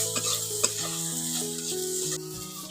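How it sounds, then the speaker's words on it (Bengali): Mango frying with salt and turmeric in a pan for a sour dish with small fish: a steady, close sizzle with a few light utensil taps and scrapes, no voices. "লবণ আর হলুদ দিয়ে ভালো করে আমটাকে একটু ভেজে নিচ্ছি।"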